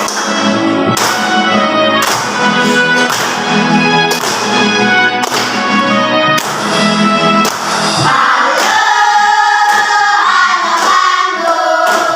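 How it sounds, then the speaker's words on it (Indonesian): A class claps along while singing the song "Halo Halo". Steady hand claps land about once a second under the singing voices, loud and close throughout. "Bisa sambil tepuk tangan."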